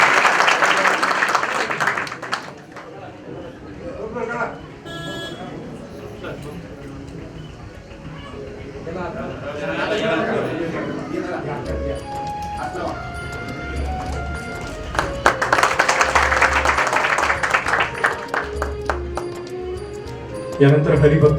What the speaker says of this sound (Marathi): एकदा जोरदार टाळ्या कादिरभाई शेख यांच्यासाठी झाल्या पाहिजे